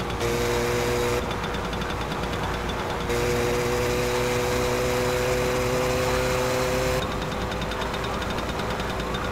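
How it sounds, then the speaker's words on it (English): A car engine in the driving game My Summer Car runs steadily and loudly, a constant droning hum with a faintly shifting tone across the whole stretch and no speech over it. "I'm screaming over the sound of the engine here"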